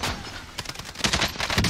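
Rapid gunfire in an online first-person shooter featuring an M4A1, with a dense burst of cracking shots that rises in loudness toward the end, sounding close and harsh with no voices over it.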